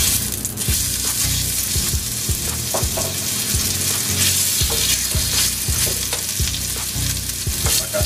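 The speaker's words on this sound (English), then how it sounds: "Guys, we're going to go ahead and add our venison in." Venison searing in a pan of reducing red wine sauce, giving a loud, dense, continuous sizzle with regular scraping and clinking strokes from a utensil throughout, close by and with no talking.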